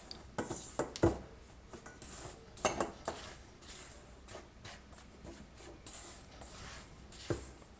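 A spatula scraping and clinking against a bowl while dry vegan sourdough pancake ingredients, including baking soda, are stirred together, with soft repeated scrapes and a few sharper knocks, close and moderately quiet.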